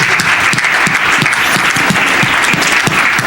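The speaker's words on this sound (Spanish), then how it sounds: "Dale fuerte esa ofrenda de palmas al Señor" Loud, dense applause from a church congregation, a continuous roar of many hands clapping at once, close and sustained, with a faint voice underneath.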